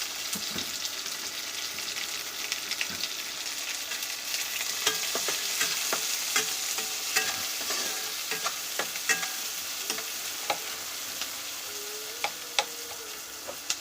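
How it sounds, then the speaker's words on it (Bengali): Chopped garlic and onion fry in white oil on an induction cooktop, a steady loud sizzle with scattered pops and occasional stirring scrapes, no talking. "রসুনটা ভেজে নিলাম কুচিয়ে, পেঁয়াজটা দিয়ে দিলাম"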